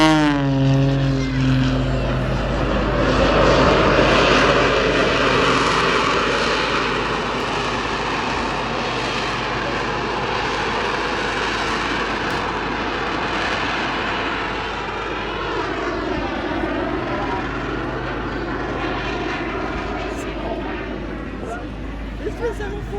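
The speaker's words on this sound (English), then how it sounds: "designing and building and flying this aircraft, having two sources of propulsion, giving that unique capability for aerial entertainment for you." A display aircraft with two sources of propulsion drones loudly overhead at an airshow, its engine tone rising and sweeping as it passes, while an announcer talks over the continuous roar.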